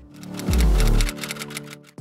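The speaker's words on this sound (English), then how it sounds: "Then add typewriter sound effect." A typewriter sound effect clacks in a quick run of crisp, evenly spaced keystrokes over a low thump, ending in a short sharp final strike.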